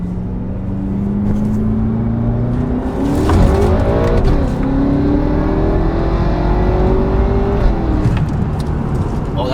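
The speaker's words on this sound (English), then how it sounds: "What you guys hear now is pure engine and exhaust." A BMW M5 with an S63 V8 roars loudly under acceleration, its engine and exhaust note climbing steadily in pitch with a brief shift dip, close and continuous, with faint talk underneath.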